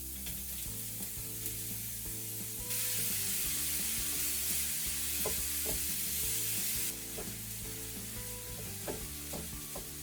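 Mushrooms and walnuts frying in a pan for vegan sausage rolls, a loud steady sizzle with a hissing surge in the middle and occasional stirring scrapes throughout, no talking.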